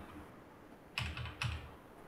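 Two distinct keystrokes on a computer keyboard, the Enter key pressed during coding, each a quiet close clack in an otherwise still room.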